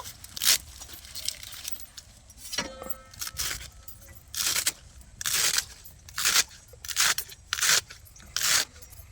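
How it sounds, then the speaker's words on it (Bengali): A knife chops spinach leaves finely on a board in a Bengali home kitchen, giving a series of crisp, evenly spaced cutting strikes that grow faster and more regular in the second half, close up and alone. "এবার আমি শাকটা কেটে নেব, খুব ছোট ছোট করে কেটে নেব।"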